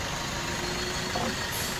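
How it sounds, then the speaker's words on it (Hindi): A Suzuki Swift 1.3 diesel engine idles after a timing chain replacement, giving a steady, close, continuous rumble with a faint tonal whine throughout the short stretch. "देखो कार का कितना मधुर आवाज है"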